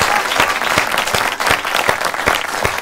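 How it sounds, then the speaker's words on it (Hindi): An audience at a comedy poetry gathering (hasya kavi sammelan) claps loudly to welcome a poet, a thick, sustained wave of applause with rhythmic collective beats pulsing through it, close and continuous for the whole stretch. "यहां पर उपस्थित तमाम श्रोता वृंद की तालियां डोर के रूप में उठे और उन्हें खींचकर माइक्रोफोन के समक्ष लाए।"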